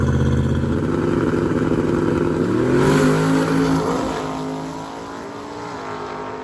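A drag racing car launches down the strip during drag week competition, its engine roaring loud and then sweeping upward through gears before fading into the distance as it pulls away.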